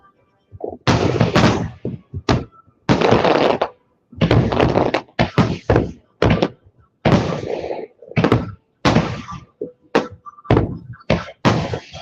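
Independence Day fireworks boom outside in a rapid series of loud, sharp blasts, each cutting off abruptly and followed by brief silence, repeating irregularly about a dozen times.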